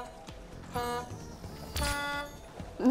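Comic horn toots from the Spyro 3 Year of the Dragon Reignited Trilogy game, two short harmonic blasts about a second apart over quiet game ambience, fairly faint.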